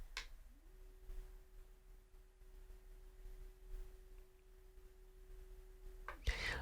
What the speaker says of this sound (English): some of that sound is going into the table and reverberating through the metal table